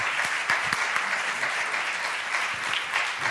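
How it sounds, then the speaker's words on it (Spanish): Audience applause at the closing ceremony of a thirtieth-anniversary event, a dense, steady clatter of many hands clapping throughout, fairly close and loud with no one speaking over it. "Un aplauso."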